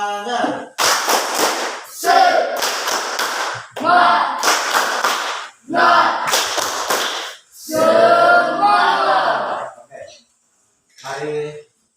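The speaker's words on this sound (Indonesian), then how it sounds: "tepuk semangat" A group of people standing together do a rhythmic spirit clap, sharp loud bursts of hand clapping in quick patterned sets with chanted voices between them, ending with quieter vocal calls.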